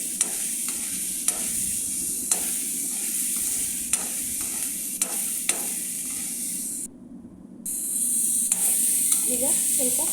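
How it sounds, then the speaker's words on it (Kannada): Batata vada fries in oil on a tawa with a steady close sizzle, broken by a few sharp stirring clicks and a brief drop in level, without speech. "ಎಣ್ಣೆಯಲ್ಲಿ ಚೆನ್ನಾಗಿ ಫ್ರೈ ಮಾಡ್ಕೊಳ್ಬೇಕು."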